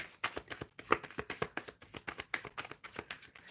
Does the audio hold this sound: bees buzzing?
no